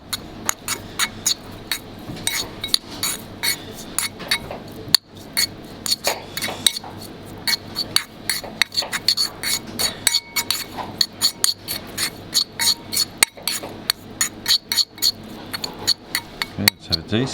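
A metal utensil clinks repeatedly against a glass bowl while mackerel tartare is mixed with lime zest in a Michelin-star restaurant kitchen, a fast irregular tapping and scraping, close and crisp.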